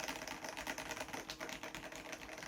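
Quiet, fast typing on a Dareu A98 gasket-mount mechanical keyboard, soft muted low-noise clacks in an even, continuous rhythm, close up and without talking.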